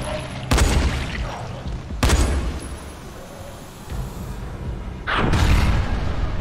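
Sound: gunshots in a video game

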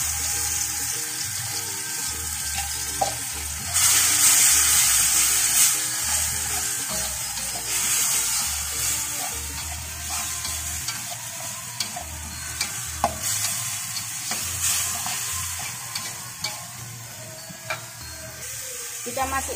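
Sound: coarse spice paste frying and being stirred in a pan

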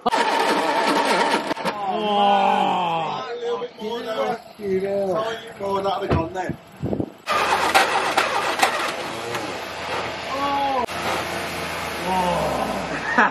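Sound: 1969 Ford Capri engine cranking and trying to start

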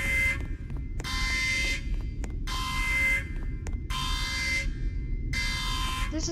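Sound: alarms in the Roblox game Among Us

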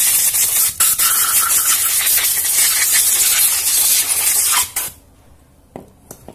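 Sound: compressed air spraying

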